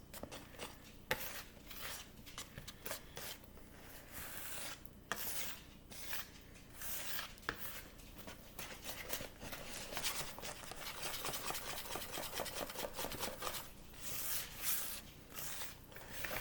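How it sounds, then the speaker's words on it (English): Pancake batter being mixed by hand in a bowl, steady soft scraping and tapping of a utensil against the bowl, faint and continuous with irregular clinks. "right now, I'm going to mix my pancake batter together."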